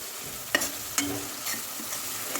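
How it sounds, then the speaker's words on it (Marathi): Garlic, ginger and coriander paste frying in a pan for aloo pulao, a soft steady sizzle with a few sharp stirring clacks of a spoon against the pan. "याला आपण फ्राय करून घेऊ दोन मिनिट"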